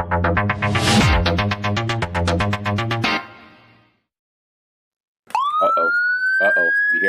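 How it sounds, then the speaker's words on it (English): A loud wailing siren sweeps up and down, cuts off into silence, then a second siren rises and wails again, close and prominent. "You hear them sirens?"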